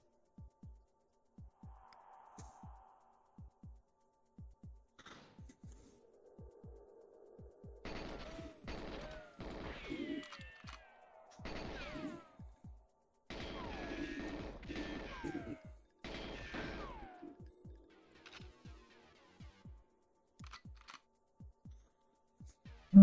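Gunfire from the video game GoldenEye 007 on Nintendo Switch Online as a toy is shot: repeated clusters of sharp shots and crashes, interleaved with soft regular ticking game sounds, moderately loud with no talking.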